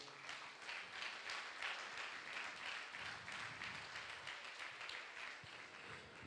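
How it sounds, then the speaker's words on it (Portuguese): A church congregation claps in a steady, fairly distant wash of applause, even and sustained without pauses. "Agora você pode dar uma salva de palmas para o Senhor."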